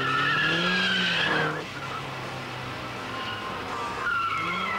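Turbocharged first-generation Mazda MX-5 NA, tuned past 200 hp, slides its tail out with a loud tire skid and squeal over engine roar, then the noise drops to a quieter engine hum before a second squeal rises near the end.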